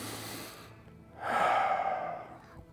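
Deep diaphragmatic breathing during a stretch in an upper-body mobility workout: a soft, airy inhale followed by one long, fuller exhale, heard close and alone without talking.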